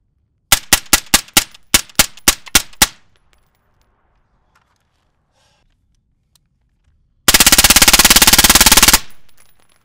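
A suppressed 5.56 rifle fires a quick string of about nine sharp, evenly spaced shots, then a pause and a dense, loud burst of rapid fire lasting under two seconds, close to the mic.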